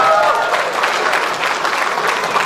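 Audience clapping at a Kazakh wedding celebration (uilenu toi), a steady dense wash of applause that holds at an even level throughout, with no break.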